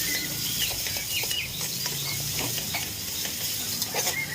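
Finely chopped tomatoes frying in a pan while being stirred, with soft scraping and clicking strokes over a low sizzle, close and fairly quiet, with no voices.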